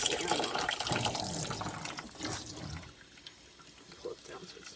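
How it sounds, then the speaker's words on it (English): Tap water runs from a faucet into a pot of sushi rice, a steady splashing gush that eases and quiets after a few seconds, with a voice speaking over it. "So what I'm going to do is add some water to it."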